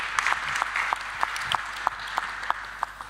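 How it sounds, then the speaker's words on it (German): Audience applause at a sustainability-day conference, the DGNB Tag der Nachhaltigkeit 2022, with a thin spread of clapping under a few distinct, evenly spaced louder claps that repeat steadily for about three seconds. "auch ein kleiner Applaus wäre super"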